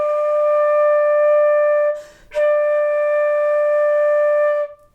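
A flute holds a long steady D whole note, breaks off for a quick audible breath, then sustains the same D again, clear and close with no one talking.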